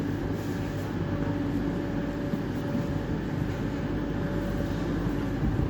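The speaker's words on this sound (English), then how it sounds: "slightly late running 1216 East Midlands Railway from Newcastle to Crewe" A 12:16 East Midlands Railway service from Newcastle to Crewe, running slightly late, rumbles steadily past at Nottingham with a continuous loud low drone and a faint tonal whine, no breaks in the sound.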